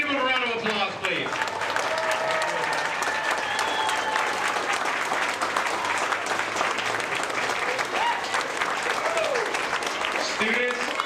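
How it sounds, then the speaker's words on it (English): An audience at a school veteran celebration applauds the military members and retirees standing, giving steady, full crowd clapping that lasts about eleven seconds, while a voice speaks over it near the start and again near the end. "Let's give them a round of applause, please."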